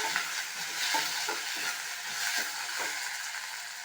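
Red rice poha ingredients sautéing in oil for Bombay-style poha, a steady close sizzle with repeated soft stirring scrapes of a spoon through the pan, no talking.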